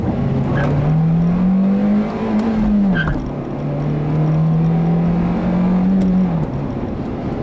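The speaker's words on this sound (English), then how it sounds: "It's just a really eager, smooth revving, efficient 4-cylinder that really just loves being hammered" A 2008 Honda Fit Sport's four-cylinder engine hums steadily, its pitch rising as it revs, dropping at a five-speed manual shift, then climbing again, loud and close with road noise.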